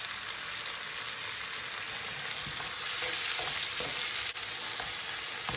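Chicken, peppers, tomatoes and tomato paste frying in a pan, a steady close sizzle with occasional stirring scrapes.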